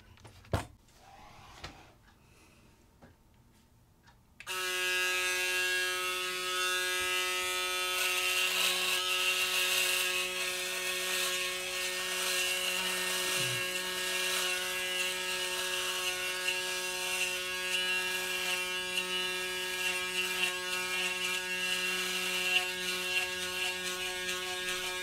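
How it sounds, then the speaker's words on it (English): A Braun Series 8 electric shaver hums with a steady, buzzing motor drone through a live shave, starting after a few quiet handling knocks and then running evenly for about twenty seconds. "So here we go with the live shave."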